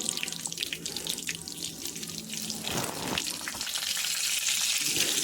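Whole cumin seeds and whole garam masala sizzle in hot oil in a kadai for paneer, a steady close crackling hiss that swells toward the end, with no talk.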